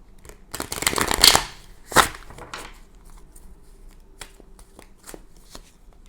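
Tarot cards are drawn from a deck in quick, close bursts of shuffling and riffling, with a sharp flick near the start and softer card snaps and slides trailing off afterward.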